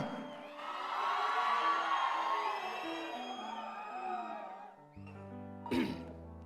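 An audience cheers and whoops at a live Telugu folk song performance. A sustained crowd roar swells over music for about four seconds, eases off, then flares again in a short burst near the end.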